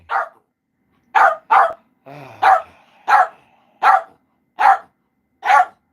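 A dog barks indoors in loud, sharp single and double barks at a steady rhythm, close to the listener, with a brief low growl between barks and no talking.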